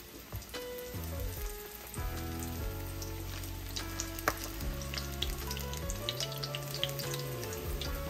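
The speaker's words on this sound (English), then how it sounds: "by spoonfuls and let it fry" Okra fritter batter dropped by spoonfuls into a skillet of hot grease sizzles and crackles steadily, a dense continuous frying hiss with scattered pops, close and moderately loud, with no talking.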